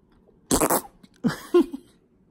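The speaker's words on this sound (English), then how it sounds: "Are you farted?" Short flatulent bursts in a quiet room, two or three brief low sputtering blasts spaced apart, fairly faint and without talk.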